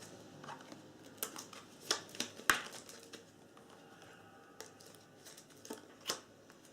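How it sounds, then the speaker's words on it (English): Game cards are shuffled from a deck in soft, irregular riffling clicks and snaps, faint and close, with short crisp bursts scattered over a few seconds and no talking. "discard this and shuffle."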